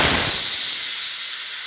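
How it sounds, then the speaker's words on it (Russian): A pressure release valve on a Medvedev polymerizer, a pressure vessel at about 2 bar, vents steam in a loud, close, steady hiss that starts abruptly and holds with only a slight fade. "Поворачиваем данный клапан."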